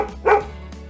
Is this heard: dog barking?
yes